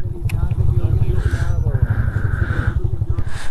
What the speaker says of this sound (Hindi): ये पहला या दूसरा गेयर है, काफ़ी बाइक ना यहाँ से जोर ले रही है